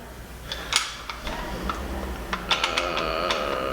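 The charging handle and bolt of a VR-80 shotgun are pulled back by hand, giving a quiet, close run of small sharp metallic clicks and ticks scattered over a few seconds.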